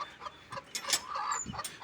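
A free-range country hen clucks in short, soft bursts nearby, a few quick calls spaced unevenly over a quiet background.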